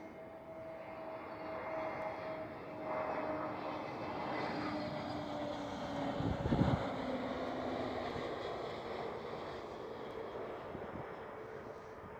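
An EasyJet Airbus A320neo jet passes at an airport, its broad engine roar holding steady and fairly distant for the whole stretch, with a faint whine riding on top and a brief thump near the middle.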